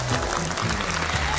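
Studio audience applause on a televised dance competition, a short steady burst of clapping with some speech underneath.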